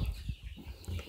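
Two-week-old chickens in a rearing coop, with soft scattered clucks and faint wing flutters in a quiet indoor space.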